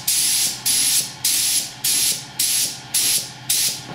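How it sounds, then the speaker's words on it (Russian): A spray gun sprays heavily diluted paint to blend a smooth colour fade, releasing seven short, even bursts of hissing spray in a steady rhythm, close and loud. "Можно его больше распылить, можно меньше."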